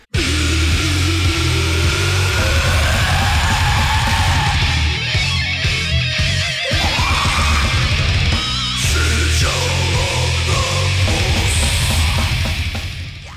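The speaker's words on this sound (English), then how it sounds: "The lead guitar work is thrashy and slightly more melodic because it has more of a hook" Loud, dense old-school death metal with thrashy leads, fast pounding drums, churning distorted guitars and a lead line winding on top, playing continuously throughout.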